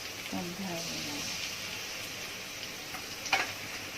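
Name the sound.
onion paste frying in a pan for duck curry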